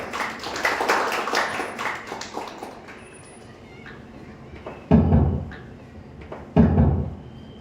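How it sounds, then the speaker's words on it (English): A seminar audience on AI and machine learning claps throughout, dense scattered applause that thins out, then two sharp loud bumps, likely from handling a microphone. "Let us welcome her with a big round of applause."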